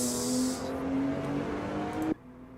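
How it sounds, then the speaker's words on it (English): Two racing car engines at the Estoril circuit drone together in an overlapping, steady roar that cuts off abruptly near the end, leaving a fainter engine hum. "You've got two engine noises overlapping."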